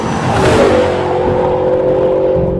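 Car fitted with a Borla touring exhaust system and large straight-through mufflers, giving a throaty, warm, mellow note; a loud, close engine rev swells and then settles into a steady droning hum.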